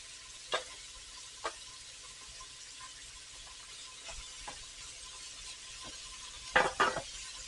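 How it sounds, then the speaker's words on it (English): Beef browning in a pan for stew, a faint steady sizzle with a few sharp ticks and pops, then a short louder burst of crackling near the end. "we're going to be browning this for a couple of minutes each side"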